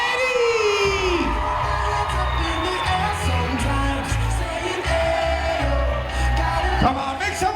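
A party crowd at a Sweet 16 celebration cheers, whoops and applauds for the parents, a loud, sustained roar of many voices with scattered shouts and claps over a low booming background.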